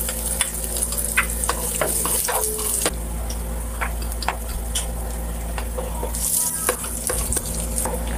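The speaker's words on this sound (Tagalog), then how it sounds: "Nagpainit na po ako ng kawali and then nalagyan po natin ng mantika at igigisa po natin ang sibuyas at bawang." Onion and garlic sizzling in hot oil in a pan (kawali) for ginataang monggo, a steady close frying hiss with frequent utensil scrapes and taps as the mixture is stirred.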